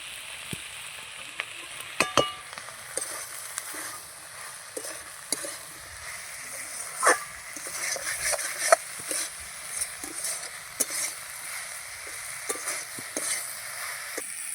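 Onions frying in a pan, a continuous soft sizzle broken by frequent close clicks and scrapes of stirring, with no voices.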